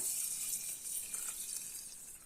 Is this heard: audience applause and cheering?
no